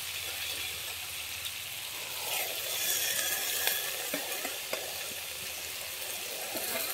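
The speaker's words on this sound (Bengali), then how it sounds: "এবারে আমি দিয়ে দিচ্ছি কেটে রাখা বাঁধাকপিটা" Chopped cabbage going into hot spiced oil in a pan while cooking a curry with hilsa fish head, a soft continuous sizzle with a few light stirring clicks, fairly quiet and with no talk.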